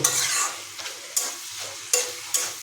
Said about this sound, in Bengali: খাসি মাংসের চর্বির উপর যেহেতু আমরা আলু যোগ করেছি তাই এটাকে আরও মিনিট পাঁচেক ধরে এভাবে কষিয়ে নিতে নেব